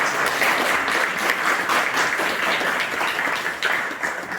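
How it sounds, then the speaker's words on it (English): An audience at a minority ethnic forum's 25th anniversary event applauds a speaker, a dense, steady wash of many hands clapping that holds throughout. "we should give her a round of applause for making the time"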